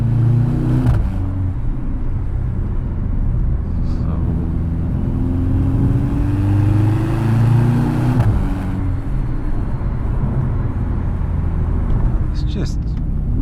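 A 670 bhp Mercedes C63 AMG without a V8 pulls uphill at nearly full throttle, its engine note climbing steadily in pitch before a shift and another rise, loud and close, with a voice talking over it.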